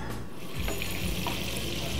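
Butter sizzles and melts in a heated wok while Thai-style fried rice is being prepared, a steady, close frying hiss that runs throughout with a few light clinks.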